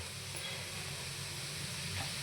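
Onions frying in a pan, a steady, faint, continuous sizzle with no breaks.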